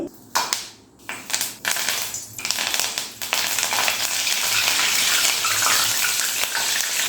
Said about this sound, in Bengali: কারি পাতা ভাজার সময় কিন্তু খুব তেল ছিটকায়